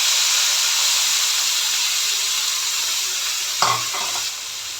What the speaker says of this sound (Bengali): আমি মলি মাছটা একটু হালকা তেলে ভেজে নিব